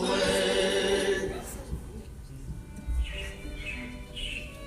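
Animatronic robins chirp in the Carousel of Progress show, a few bright squawking calls following loud music, heard indoors over a steady background.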